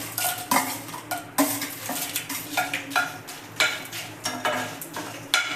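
Dried red chillies being fried in oil in a kadai, with a ladle repeatedly clanking and scraping against the metal pan in uneven bursts over a faint, low sizzle, close up.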